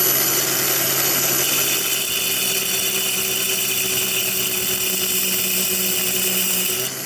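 A power saw cuts into a meteorite, a steady, loud whining grind with a constant high tone, close-up and without voices, ending abruptly.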